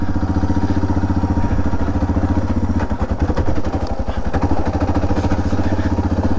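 A Suzuki DR650 motorcycle engine chugs loud and close with a steady single-cylinder throb, a rattling clatter swelling midway as it shifts into second gear.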